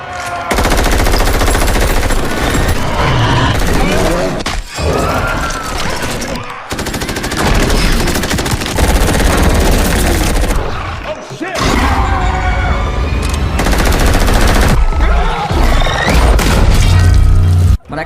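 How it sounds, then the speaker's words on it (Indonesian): Loud, dense film battle noise from The Tomorrow War, with bursts of rapid gunfire and heavy booms, mixed with voices and dramatic score, broken by a few brief pauses. "tembak-tembakan pun terjadi"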